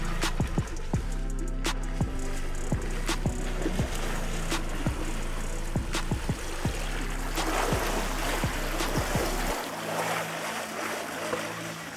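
A 2x2 electric off-road scooter pushes through forest swamp water, with steady splashing and churning of water close by over a low motor hum, rhythmic thumps as it rolls, quieting near the end.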